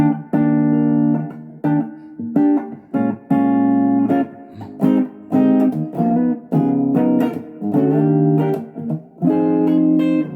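Electric guitar with the tone control rolled down for a warm, jazzy sound, played as a series of strummed chords and short phrases with brief gaps between them, close and clear, with no talking.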